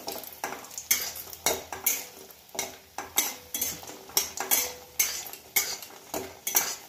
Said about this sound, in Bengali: বড়িগুলো একটু ভেজে নিচ্ছি। একটু লাল লাল করে ভেজে নেব।